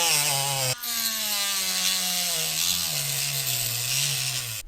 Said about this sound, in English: if you hold the rotary tool still against the workbench and actually move the item that you want to cut around it, it actually works better